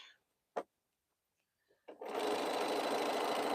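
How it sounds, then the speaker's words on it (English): A sewing machine stitches quilt borders, starting after a couple of faint clicks and then running in a steady, fast, close whir until the end. "So now I'm sewing the top and bottom border"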